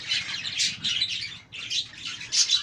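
Pet budgerigars chirp in close, rapid bursts of bright twittering, with a short pause midway before the chatter resumes.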